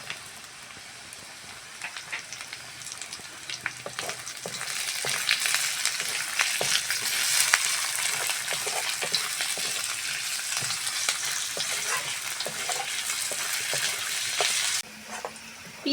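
Chopped onion and garlic fry in a pan with a steady, crackling sizzle that swells after a few seconds and stays loud, broken by occasional stirring scrapes, with no voices.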